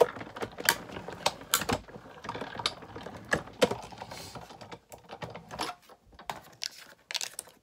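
A die-cutting machine cranking craft pieces through between cutting plates, heard as irregular close clicks, snaps and rattling mechanical ticks, moderately quiet with uneven bursts and brief lulls.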